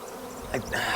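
A swarm of honey bees hums steadily close by, a continuous droning buzz over one brief second.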